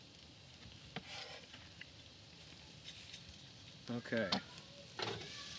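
Onion goes into a hot pan for vegan spaghetti and meatballs, giving a faint, steady sizzle with a couple of brief pan clatters near the end. A voice speaks a single short word.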